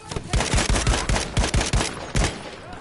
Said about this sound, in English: That was a good grenade.